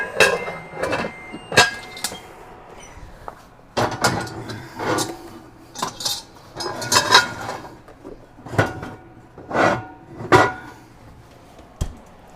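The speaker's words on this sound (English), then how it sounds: "In goes the big pan with the lid." Metal bakery pans, cast pans and a big lidded pan, are loaded into an oven with repeated loud clanks, scrapes and thuds of metal on metal, irregular and close in a busy bakery.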